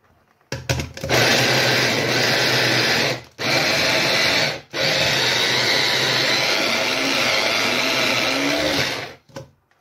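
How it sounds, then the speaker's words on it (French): Kitchen blender chopping red onion and coriander for kefta skewers, a loud close motor roar running in three long bursts separated by short stops, with no voices. "l'oignon rouge et la coriandre. Et pareil, on va le mixer."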